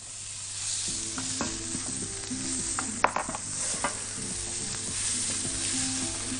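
Peppers and peas frying in a pan while being stirred for Indian samosa filling, a steady close sizzle under repeated scraping and clattering stirs, with a few sharper knocks midway.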